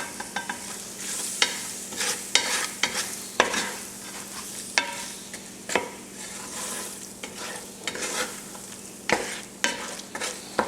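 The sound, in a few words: garlic, bay leaves and thyme cooking in a pan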